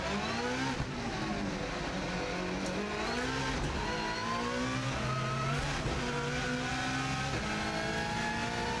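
A car at full speed on a record lap of the TT road course, its engine roaring loud and close throughout, with pitch rising and dropping through gear changes and braking into a tight right-hander, plus faint tire noise.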